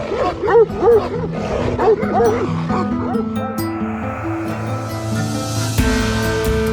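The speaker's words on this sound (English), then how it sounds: "We also haven't been encountering quite as many angry dogs." Dogs in rural Georgia bark angrily in repeated yapping bursts over the first few seconds, joined by whimpers and yips, then give way to a steady tonal hum that fills the rest.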